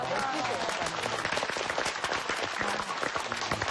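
A studio audience on a Korean health variety show claps briskly and continuously in a short, even burst, with faint voices mixed beneath the applause.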